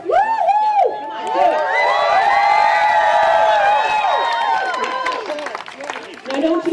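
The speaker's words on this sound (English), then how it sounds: "show the fine folks at UFA just how loud Chestermere can cheer" A crowd at the Chestermere town rally for Alex Halat, a small-town hero event, cheers loudly and steadily with whoops and high whistles, then the noise tails off near the end.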